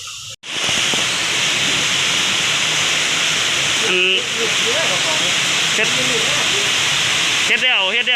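Heavy rain pours down over floodwater in a dense, loud, unbroken hiss, with brief voices rising over it near the middle and end.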